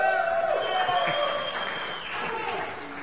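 Audience applause for a band at a Mexican late-night variety show, steady clapping sustained for about three seconds with tonal music or voice traces mixed in.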